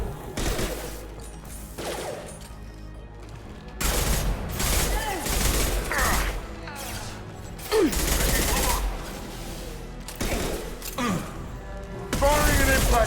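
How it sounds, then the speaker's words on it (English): Gunfire from the Mass Effect 2 video game: repeated bursts of shots and booming impacts crowd a combat scene, loud and close, under shouted voices. "Firing an impact shot!"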